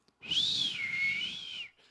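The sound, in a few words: whistling imitating the wind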